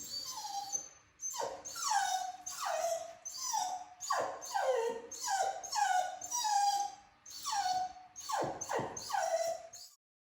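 A dachshund whimpers and whines in repeated high, wavering cries, a steady series of close, fairly loud moans with brief gaps over about ten seconds, no talking.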